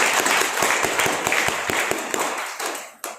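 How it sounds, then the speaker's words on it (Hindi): Audience applause at an Ayurveda product training event for a company's MD and CEO: a wash of clapping from a crowd with a few sharp, prominent hand claps standing out near the microphone, thinning out toward the end. "मैं चाहूंगा जोरदार तालियां"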